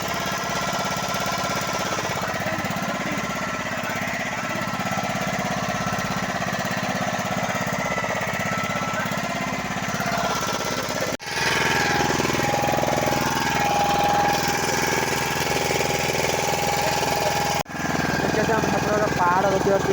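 A motor boat engine drones steadily and loudly on Chilika lake for the whole stretch, with voices talking over it and two brief dips partway through.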